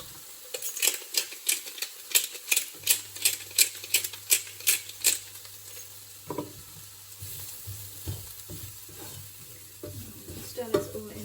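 Onions seasoned with salt and cumin are stirred in a pan: a quick run of about a dozen rhythmic scraping strokes, then a soft sizzle with scattered scrapes and clinks, close by and with no voices.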